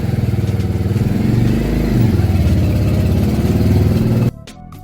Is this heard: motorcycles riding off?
yes